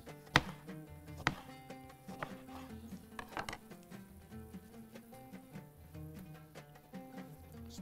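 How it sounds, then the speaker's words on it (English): A knife slices lemon on a cutting board while Bahraini machboos with calamari, clams and crabs is prepared, giving a few sharp, close taps spaced apart over a faint, steady background hum. "Just going to slice them."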